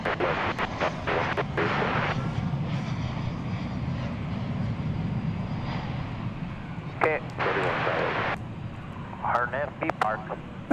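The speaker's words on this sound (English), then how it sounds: "That's a Spirit A320neo coming in from Oakland, California." A Spirit Airlines Airbus A320neo on arrival at Dallas/Fort Worth Airport, flying in from Oakland, gives a steady broad jet roar throughout, with brief rustles and clicks over it near the end.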